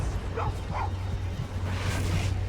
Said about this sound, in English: Maybe I can get a dog down there.